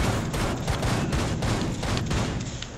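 A full magazine emptied in rapid continuous gunfire in Rainbow Six Siege, a dense, loud, unbroken burst of overlapping shots lasting the whole few seconds, with no pause or talking.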